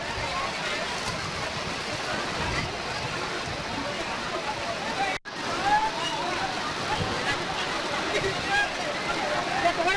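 Floodwater from heavy rain rushes through a weekly vegetable market in Honnavar, Uttara Kannada, a steady broadband wash of flowing, splashing water with one brief dropout midway.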